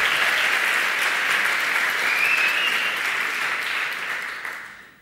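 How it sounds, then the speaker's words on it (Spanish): A conference audience gives a speaker a dense, sustained round of applause that stays loud and full before tapering away in the final second. "Un aplauso para Mariette."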